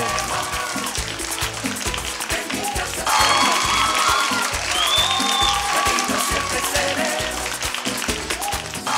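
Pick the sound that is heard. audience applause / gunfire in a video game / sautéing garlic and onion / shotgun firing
audience applause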